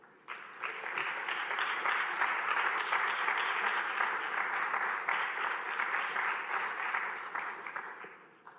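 Audience applause at an awards celebration as a councillor walks on stage, steady clapping rising in and fading out at the end.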